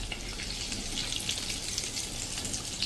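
Stuffed rolls of a fasting-day batter deep-fry in hot oil in a pan, giving a steady, close bubbling sizzle with fine crackling throughout and no talking.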